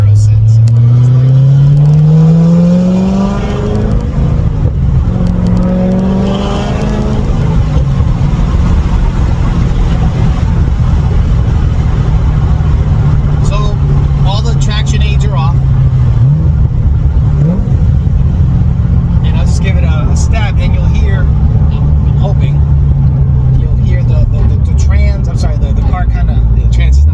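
A Chevrolet Corvette ZR1 pulls away and revs hard, its loud engine note rising through the gears, then holding a steady roar up close from inside the car for the rest of the run.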